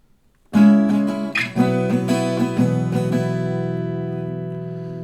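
Acoustic guitar chord strummed in a quick pattern of down and up strokes, then left to ring out, close and clear.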